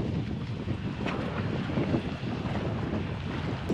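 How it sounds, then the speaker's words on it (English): Boarding a glass bottom boat at CocoCay: steady low engine rumble and water churn with wind buffeting the microphone, continuous and fairly loud throughout. "we're just getting onto the glass bottom boat"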